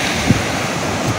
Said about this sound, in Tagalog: Yung dagat, maalon pala.